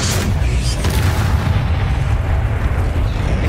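A Bombarda spell explosion in the video game Hogwarts Legacy, a loud, deep, rumbling blast that fills the whole moment and stays heavy and sustained for a few seconds.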